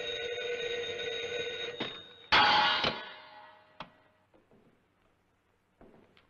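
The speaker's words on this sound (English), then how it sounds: "I think the phone's ringing." An old-fashioned telephone bell rings loudly in a 1938 film, with a bright metallic trill that cuts off sharply, followed by a few faint clicks and taps in a quiet room.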